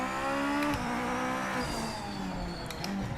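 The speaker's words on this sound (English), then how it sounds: "Do these cars all have the exact same engine? Because this one sounds exactly the same as the other one." A GT500 race car engine revving in the Project Motor Racing video game, a loud, close, steady high-pitched drone that rises and falls with gear changes, with no voice over it.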